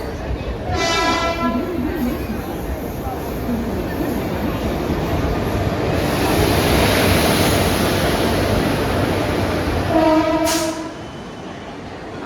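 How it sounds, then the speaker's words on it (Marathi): A passenger train bound from Borivali to Sawantwadi pulls into Borivali station during the Ganpati festival rush, its rolling clatter rumbling steadily with two loud horn blasts, one near the start and another near the end, amid station noise. "आली आहे बोरवलीला ट्रेन आपली"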